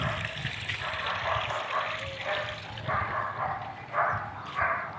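Water gushes steadily from a motor-driven pump on a farm field, a continuous rushing stream with occasional louder surges, heard up close.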